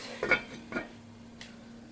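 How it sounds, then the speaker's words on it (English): Two blocks of ice clatter into a hot pot holding sourdough for baking, followed by a metal lid clanking on: a pair of quick knocks and a brief clink, close and fairly quiet. "Add 2 blocks of ice. Put the lid."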